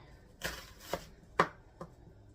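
Onion being finely diced with a knife on a cutting board for hamburger soup: four crisp, well-spaced chops land close and clear against a quiet background, no one talking.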